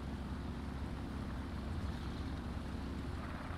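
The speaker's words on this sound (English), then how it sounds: "This is legitimately as fast as I can get my engines to go." PBY-5 Catalina flying boat engines at full power on water in War Thunder: a steady, dense engine drone with broad rushing noise, constant and unbroken, no voices.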